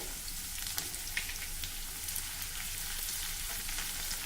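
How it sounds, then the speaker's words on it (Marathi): Crushed garlic fries in ghee as a tadka for khichdi, giving a steady, dense sizzle with scattered sharp crackles and pops throughout. No one speaks. "हा लसूण आपल्याला छान तांबूस रंगाचा होईपर्यंत या तुपामध्ये तळून घ्यायचा आहे"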